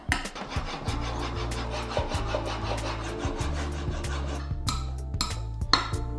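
The flat back of a chisel is stropped on 60,000 grit abrasive, giving a soft rhythmic rubbing stroke repeated at an even pace, close and fairly quiet, with a light metallic scrape now and then.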